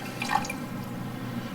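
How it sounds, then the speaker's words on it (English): Water pours into a cooking pot at an off-grid home, three cups in all, a soft splashing trickle with a brief brighter gurgle near the start, then a quiet steady flow. "So we'll go and pour it in and see what that looks like."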